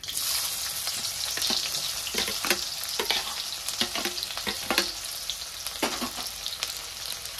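Finely chopped onion goes into hot oil with cumin for misal pav and fries with a bright, continuous crackling sizzle. Repeated scraping stirs run throughout, with no voices.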